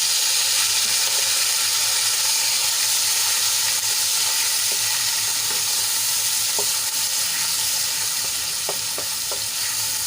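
Grated onion and slit green chilies sizzle steadily in hot oil for a fenugreek and papad curry, a continuous close frying hiss with a few faint clinks of stirring and no talk.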